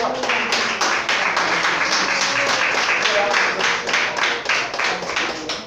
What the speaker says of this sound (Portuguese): Por isso você pode aplaudir mais uma vez?